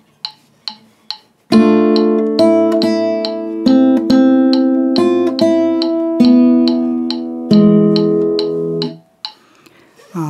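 A guitar strums sustained chords in time with sharp metronome clicks, starting with a few bare clicks before the loud chords ring out and fade near the end.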